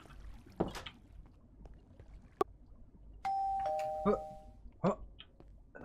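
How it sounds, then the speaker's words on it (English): A doorbell rings in the Minecraft Foolcraft modpack video game, a short bright two-tone chime standing out over quiet game ambience with a few soft knocks and clicks around it. "Have the mobs suddenly learned how to ring doorbells?"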